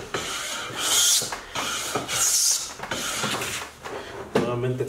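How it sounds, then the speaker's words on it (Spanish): A hand plane shaves a wooden board in a series of four or five long, raspy strokes with brief pauses between them, each pass scraping loudly and close by. "Debe ser suave el cepillazo, pero además como para emparejar."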